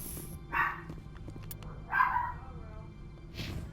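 A dog barks a few times in the Mass Effect 1 Legendary Edition game, short spaced yelps over a low steady background hum.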